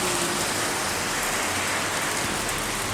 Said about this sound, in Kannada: ಇಲ್ಲಿ ಜೋರು ಮಳೆ ಬರ್ತಾ ಉಂಟು